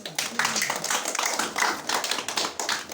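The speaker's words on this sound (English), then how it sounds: "Clap for yourself." A room of people at a talk on dyslexia claps for themselves, sharp close hand claps in a quick, uneven burst that carries through the whole three seconds.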